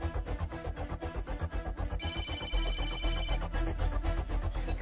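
A shrill telephone bell rings in one burst of about a second, cutting across a steady rhythmic backing beat.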